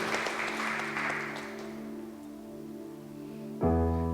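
A church congregation at a Sunday Hindi service claps hands in a dense burst that fades away, then a sustained musical chord enters loudly near the end.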